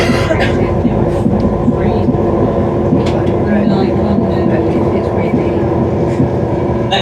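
A passenger train runs along the Hope Valley Line, heard from inside as a loud, steady low rumble with faint rhythmic clatter throughout and brief higher rattles, without any clear speech.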